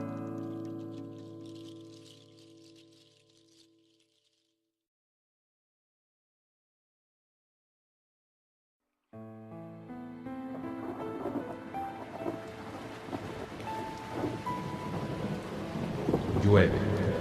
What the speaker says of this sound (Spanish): Llueve, el mundo se llena de sombra, gotas de lluvia amargas como hielo, se abaten impunes sobre los campos yermos.